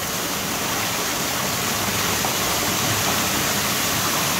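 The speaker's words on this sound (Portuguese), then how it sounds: "Agora a água tá aqui na frente, tá passando por cima da roda." Water rushes steadily over the wheel of a water mill as it starts turning, a loud, close, unbroken broadband roar with no talk.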